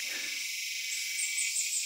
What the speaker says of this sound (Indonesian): Apalagi nih, jangkrik.